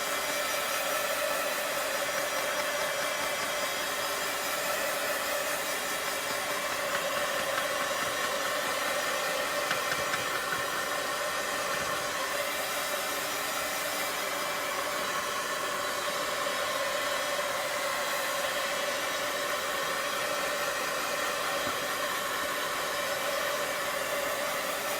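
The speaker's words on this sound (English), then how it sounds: "I'm just going to grab my heat tool, and I'm going to dry these so that in moving them I don't mess them up" A handheld heat tool blows continuously while drying stenciled coffee designs, making a steady, even whooshing hum with a faint whine that runs close and unbroken throughout.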